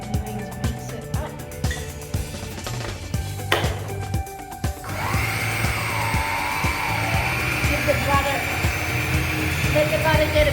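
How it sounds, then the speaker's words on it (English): Electric mixer beating 115 grams of butter, starting partway through with a steady loud motor whir after earlier clatter and talking from a person. "So we're going to put the 115 grams of butter into the mixer. And we're going to mix it up."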